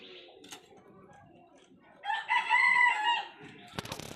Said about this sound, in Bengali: এটা মাল্টি কালার মোরগটা, অনেক বড় সাইজের মোরগ